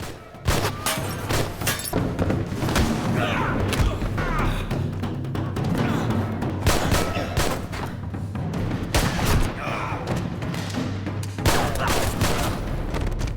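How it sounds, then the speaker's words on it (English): Violent gunfight in an action movie, dense rapid bursts of gunfire and heavy impacts going on throughout over a low rumbling soundtrack. "his cover is blown, sparking a violent gunfight"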